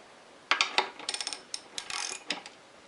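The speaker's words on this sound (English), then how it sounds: "next I'm going to loosen this pinch clamp, remove the pinch bolt, and then start loosening the axle" A wrench ratchets on the front axle pinch bolt of a motorcycle with 40-year-old fork oil, giving a quick run of close, sharp metallic clicks in short bursts.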